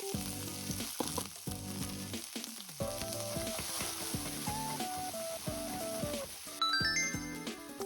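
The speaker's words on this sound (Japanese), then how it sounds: "じゃあ千切りにした部分、炒めていきます。" Julienned mountain udo stir-fried in sesame oil for kinpira, a steady crackling sizzle in the pan with light stirring scrapes and clinks, no talking.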